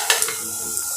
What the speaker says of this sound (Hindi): अब हम इसमें अपने सारे खड़े मसाले डाल देंगे।